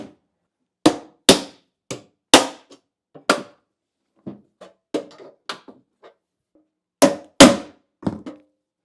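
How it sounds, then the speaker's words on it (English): Lineman's pliers strike the metal-backed end of a demolition screwdriver to knock out an electrical knockout, making a series of sharp metallic taps in irregular clusters with short pauses between them, close and distinct against near silence. "I can use this set of lineman's pliers to hit that thing."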